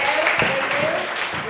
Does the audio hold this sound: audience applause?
yes